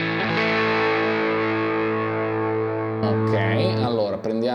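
Electric guitar run through an amp plugin on a Quad Cortex, a sustained distorted chord ringing steadily before a busier burst of picked notes near the end, loud and close with no talking.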